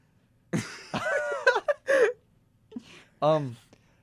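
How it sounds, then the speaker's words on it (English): Several short, harsh coughs from a scratchy, phlegmy throat break out in quick bursts, close and fairly loud, with brief pauses and a throaty, gasping quality between them. "I'm sorry that I keep coughing."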